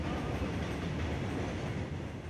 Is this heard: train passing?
yes